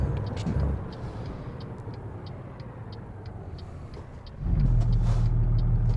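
A big rig's engine in the game American Truck Simulator drones steadily, then drops in pitch and grows louder and deeper after a gear change near the end, with a repeated ticking sound above.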